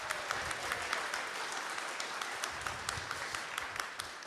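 A small group claps steadily and fairly quietly, a light patter of hands continuing for several seconds without a clear rhythm.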